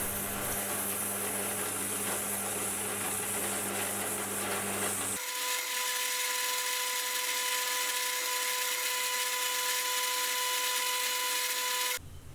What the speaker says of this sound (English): I am going to drill and then counterbore this end with an 8mm hole for a bolt.